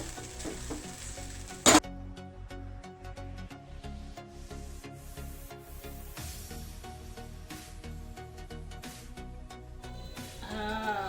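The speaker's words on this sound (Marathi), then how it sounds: "आता आपण याला 15 मिनिटं हलवून घेऊ." Rice being stirred in a hot pan, a soft continuous sizzle broken by repeated spoon scrapes and clicks against the metal, with one sharp clatter early on, close and without voices.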